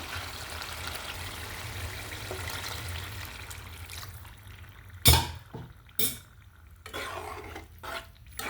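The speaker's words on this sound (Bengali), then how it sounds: "এখন আর একটু ঝোল দিয়ে দেবো।" Liquid broth pours into a pan of fish curry with a steady watery rush, followed by a few sharp clinks and scrapes of utensils against the pan.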